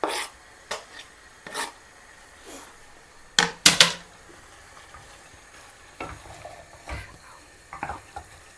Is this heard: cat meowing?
no